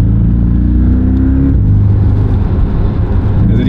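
Abarth car engine heard from inside the cabin on a rainy track day at Bilster Berg, a loud, steady low rumble with a throaty boxer-like growl and slight revving changes, with no talking over it.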